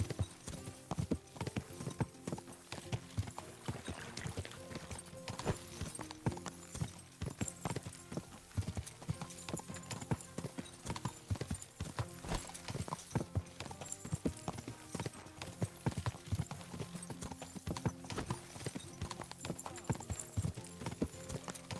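Rapid, continuous hoofbeats of a galloping horse in a video game, a dense rhythmic clatter that stays steady and fairly quiet throughout.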